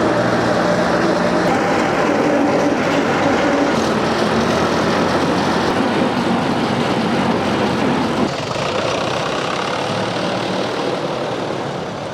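A tractor on a beetroot farming route near Gundlupet runs nearby with a loud, continuous diesel drone and heavy rumble, steady for about twelve seconds and easing slightly toward the end, with no talk over it.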